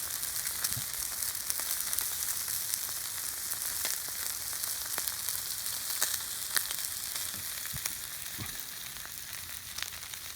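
Cream gravy starts cooking in a hot pan, with a steady, dense sizzle and fine crackling pops throughout, moderately quiet and with no talk.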